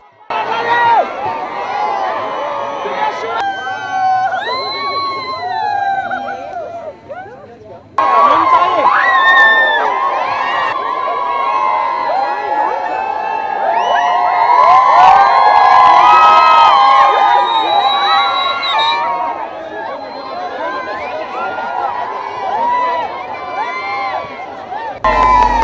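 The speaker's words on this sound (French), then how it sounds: "Sur la route, un bain de foule a été tenu." A roadside crowd cheers, shouts and whoops as people gather for a public walkabout, with children's voices mixed into a dense, continuous, lively roar that swells loudly at times.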